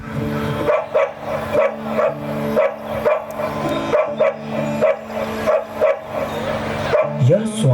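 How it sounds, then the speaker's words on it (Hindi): A dog's barking is performed on stage in a school annual-function play. Repeated yips and barks come in a steady rhythm across several seconds, loud and close over a sustained backing tone, with whimper-like sounds mixed in. "यह श्वान की ध्वनि तो मेरे अभ्यास में विघ्न डाल रही है।"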